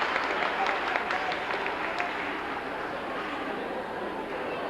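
A crowd at a 1993 middle school winter sports assembly in a gym claps steadily for the whole stretch, a loud, even wash of applause with scattered voices in the mix.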